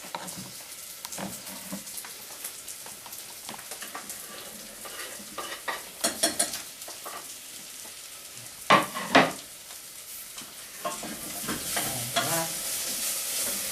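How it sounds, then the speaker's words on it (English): Steady crackling sizzle of potato frying in hot oil, with occasional louder spits and pops and some stirring, close up and without voices. "You can hear it sizzling."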